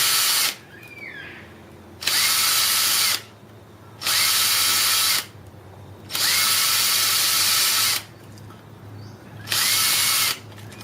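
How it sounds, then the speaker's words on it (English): A power drill with a 7 millimeter bit whines loudly drilling a finger hole in a carrot, in repeated bursts of about one to two seconds, separated by short quiet pauses, close by. "So now just drilling the 6 finger hole with a 7 millimeter drill bit."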